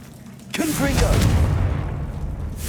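In Hogwarts Legacy, the Confringo fire spell goes off as a deep booming blast that swells and rumbles for about two seconds, with a brief voiced call at its onset.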